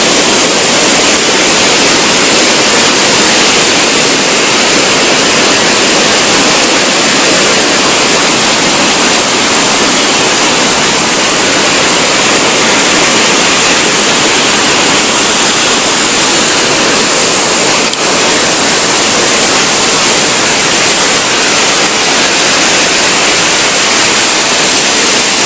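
Fast-flowing river water at Thumboormuzhi rushes in a loud, unbroken roar, a steady wash of churning current filling the whole stretch with no voices heard.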